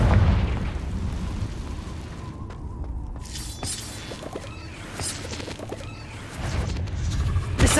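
Fiery spell blasts from the Confringo curse in Hogwarts Legacy, a run of booming, shattering bursts over a dense game soundscape, loud and close with sharp cracks spaced through the clip.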